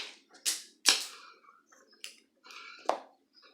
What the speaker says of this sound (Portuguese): aqui, gente, eu já vou cortar esse fio